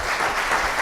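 Brief burst of dense audience applause at a Spanish-language urban collectives panel, many hands clapping together in a continuous wash, close and steady.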